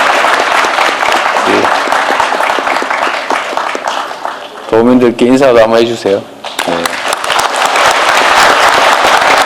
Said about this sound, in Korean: 여러분 박수 크게 부탁드립니다.